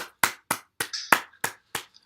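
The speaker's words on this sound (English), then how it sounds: "We have to work on this applause." Sparse handclaps at a video conference, about eight evenly spaced sharp claps from a single nearby source, with a brief tonal chirp partway through.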